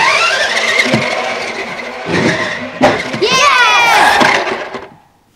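A car engine revs hard indoors, rising in bursts with a skidding, racing quality and a sharp swelling whine before cutting off into near silence.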